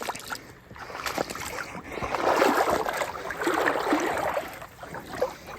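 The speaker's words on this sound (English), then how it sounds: "Oh my, went right over the top of my boot, Houston." Boots splashing and sloshing through deep creek water, someone wading forward with steady churning and gurgling swells that build and fade over several seconds, close by with no talk.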